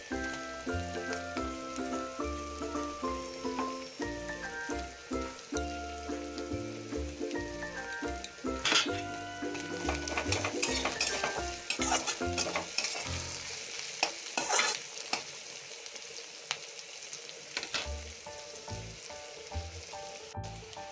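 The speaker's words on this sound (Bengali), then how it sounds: "এখন দিয়ে দেবো থেতো করা আদা রসুন" Crushed ginger and garlic hit hot oil over already-fried onions for a lote fish jhal and are stirred: a steady close sizzle broken by repeated scraping spoon strokes, with no talking.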